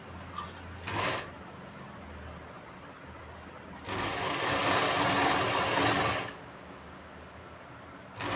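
A sewing machine stitches folded cloth at a garment neckline in two bursts, a short one near the start and a longer run of about two and a half seconds midway, with quiet room tone between.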